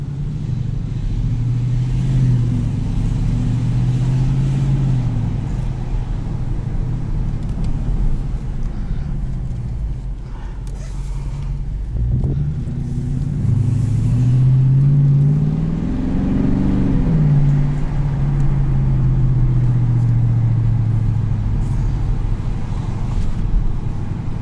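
A 2018 Dodge Challenger T/A Plus V8 with 8-speed automatic drones low and muffled from inside the cabin in comfort mode with exhaust valves closed, rising and falling as it accelerates and shifts, with wind and road noise underneath.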